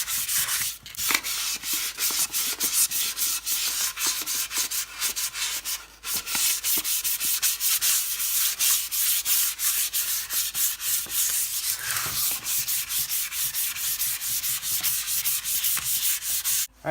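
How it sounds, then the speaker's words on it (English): Sandpaper of 400 grit rubs over a guitar body on a workbench in steady, continuous back-and-forth strokes, close and even, with no talking. "take 400 grit sandpaper and just go ahead and sand this"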